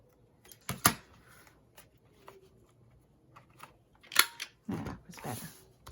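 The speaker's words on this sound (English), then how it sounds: "I'm going to be using my scissors for that." Several sharp snipping sounds of scissors cutting paper, coming in short separate bursts with quiet handling noises between them, close by.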